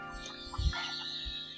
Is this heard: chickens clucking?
yes